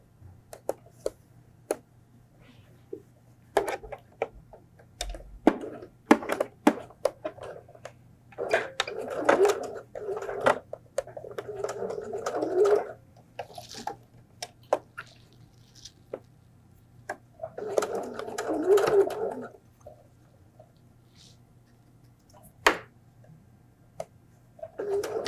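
A sewing machine top stitches the folded edge of a fabric flu mask in short bursts of rapid whirring, separated by pauses and scattered clicks and handling taps, heard close and quiet over a low steady hum.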